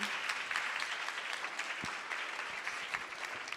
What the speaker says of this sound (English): If you could help me give a warm round of applause for Kayla.